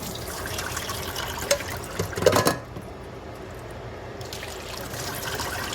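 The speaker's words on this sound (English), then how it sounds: "Okay, but I'm using my colander. That way I get all my water off." Water from canned ackee trickles and splashes as it drains through a colander in a home kitchen, close and steady, with a brief louder gush partway through.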